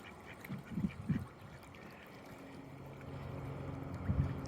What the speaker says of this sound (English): There's all kinds of stuff flowing out of this canal and all the birds are fighting over it.